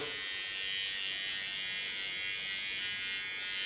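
An electric hair clipper buzzes steadily and close throughout a haircut for a bob cut and colour, a continuous high whine with no talking.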